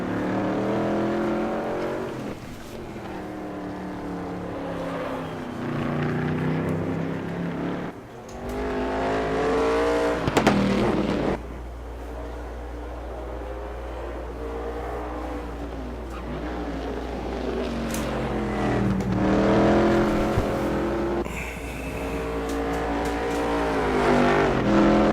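A race car engine in the RaceRoom sim racing game revs and shifts repeatedly through gears, its pitch climbing and dropping in steady cycles, loud and continuous with a low drone underneath.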